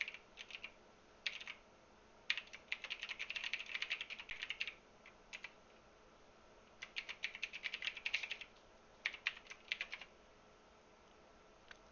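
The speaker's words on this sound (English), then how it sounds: "you'll just simply go to sign in, and you'll type in your email." Fingers type on a computer keyboard, entering an email address at a sign-in page: quick bursts of soft clicking keystrokes close by, separated by short quiet gaps, with no speech.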